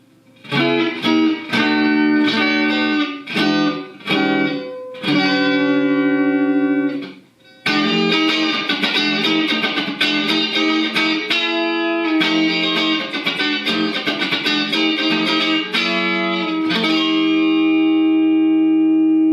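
An electric guitar on the neck pickup, with a Gibson tone circuit, plays choppy chords and sustained notes with a thin, bright, trebly tone and some reverb, no voices.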